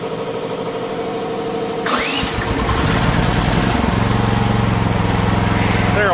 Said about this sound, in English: They're a wicked little engine.